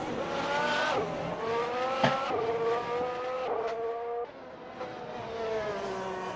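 Race car engine in Assetto Corsa rounding the Lesmo corners at Monza for the 2019 Italian Grand Prix, loud harmonic whine dropping on braking and climbing through gear changes, with tyre scrub and a second car nearby.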